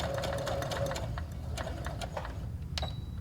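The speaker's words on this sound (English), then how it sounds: "I'm going to go ahead and sew to the end and then back stitch again" A sewing machine stitches fabric for a dog bandana, a steady close whirring hum that runs nearly unbroken before slowing briefly as it back stitches, with a faint tick near the end.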